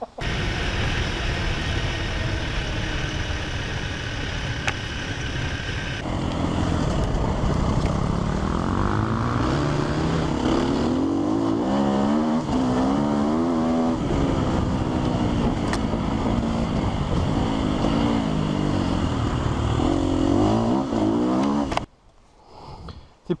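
A Sherco 300 SEF Factory 2024 motorcycle engine running steadily, revving up and down in a droning, uneven pattern for about twenty seconds before cutting off abruptly.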